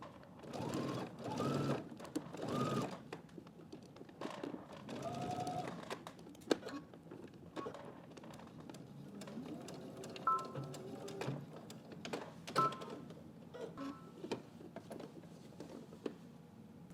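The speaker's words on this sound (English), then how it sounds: "we're going to head over to the machine and we're going to add stitch right there on that fold" A home sewing machine runs a line of stitching down a fold of fabric, its motor whirring in several bursts with short pauses between, fairly quiet and close, with faint handling rustle and no talking.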